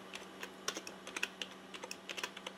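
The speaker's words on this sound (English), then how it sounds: "Let's just try typing something." Typing on a computer keyboard running Windows 7 on an old 900 MHz Celeron machine, a quiet, uneven run of light key clicks and taps close by, with no talking over it.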